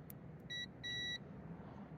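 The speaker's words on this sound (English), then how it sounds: "If there's continuity, it'll bleep" Two short electronic beeps from an AstroAI digital multimeter continuity test, the second longer, sound over a low background hum, high-pitched and clear.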